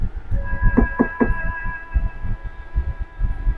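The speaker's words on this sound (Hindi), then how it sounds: "थोड़ी देर बाद उनको ऐसा लगता है कि किसी ने दरवाज़ा खटखटाया।" Three quick knocks on a door, evenly spaced and moderately loud, set against a low steady hum and rumble in a horror story scene.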